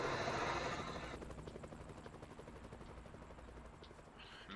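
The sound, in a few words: helicopter flying, video game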